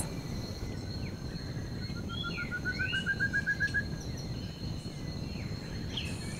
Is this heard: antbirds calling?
yes